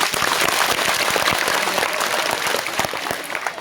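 An audience applauds loudly at a religious discourse at the Harpaleshwar Mahadev temple, dense clapping filling the space for a few seconds before tapering slightly.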